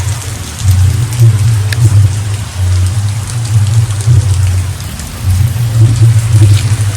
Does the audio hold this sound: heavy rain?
yes